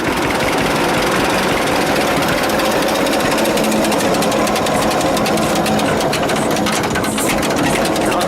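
A heavy old 1946 John Deere AR tractor engine runs steadily and loudly close by, a continuous rough chugging drone with knocking texture, with no talk over it.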